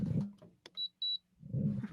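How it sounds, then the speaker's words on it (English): Window air conditioner in a hot room giving two clear electronic beeps as it switches on, the tones short and bright between bursts of a nearby voice talking before and after. "I can hear the beep. Yeah. My AC turning on."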